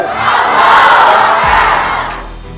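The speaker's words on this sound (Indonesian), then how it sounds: "Anda getarkan Nusantara dengan takbir yang berkarakter." A large seminar crowd in Pangandaran shouts the takbir together in one loud, sustained chant that swells, holds and then fades away.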